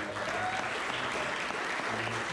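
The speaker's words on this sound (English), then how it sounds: "Give these guys a round of applause here." Steady applause from a crowd welcoming a young boys' band of three, including twins, onto a stage, a continuous dense wash of clapping with no talk over it.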